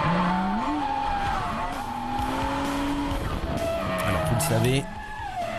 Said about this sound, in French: petit coup de drift